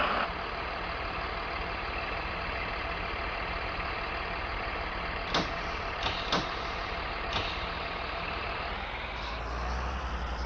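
A Saf-T-Liner C2 school bus engine idles with a steady mid-low diesel rumble, a few sharp clanks and clicks breaking through midway, and the note shifting near the end as it settles.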